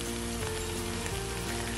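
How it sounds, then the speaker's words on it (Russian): Sliced bell pepper frying in a pan, a steady close sizzle with crackling pops throughout, no voices. "фактически я уже обжариваю слегка перчик, а потом добавляю фасоль"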